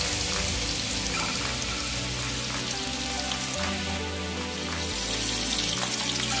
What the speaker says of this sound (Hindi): हल्का ब्राउन होने तक इसको हम लोग फ्राई करेंगे